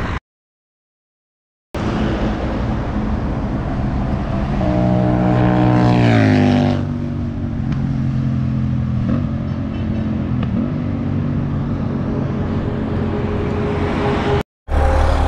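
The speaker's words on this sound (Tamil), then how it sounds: "நம்ம இந்த வண்டியோட எக்ஸாஸ்ட்டை மட்டும் லைக் த்ரில் பண்ணி பார்க்க போகிறோம்." Royal Enfield Continental GT650 twin fitted with a Red Rooster Performance exhaust, running loud and steady with a rising rev around the middle, a brief dip in the sound, then a sustained throaty drone, with no talking.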